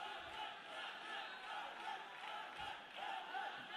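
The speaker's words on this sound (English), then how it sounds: "It's hard to tell who they're cheering for" A crowd cheers at a lightweight SFN fight bout in its final minute, a steady, fairly distant roar of voices with occasional shouts rising above it, carrying on without a break.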